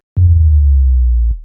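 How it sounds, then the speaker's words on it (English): A sub drop effect from a melodic dubstep build-up: one loud, deep booming hit that settles into a long, low sustained rumble, slowly falling in pitch before cutting off, alone and close. "sub drop"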